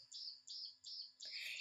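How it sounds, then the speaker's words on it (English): Several birds chirp in quick repeated bursts of high, bright calls, close and fairly clear, with a denser flurry of overlapping tweets at the end and no talking. "So many birds."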